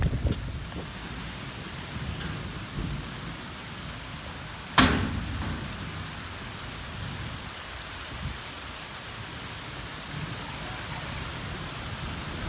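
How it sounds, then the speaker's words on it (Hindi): Heavy rain pours steadily outdoors in a dense, continuous hiss that stays near and loud throughout, broken once by a sharp crack of thunder or a sudden impact around the middle. "अभी बहुत तेज़ बारिश आ गई है"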